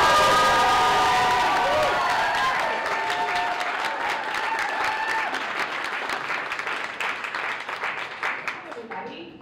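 Audience applause with cheering welcoming a speaker at a RISE Nashville talk on brand building; dense, loud clapping that gradually thins and fades toward the end.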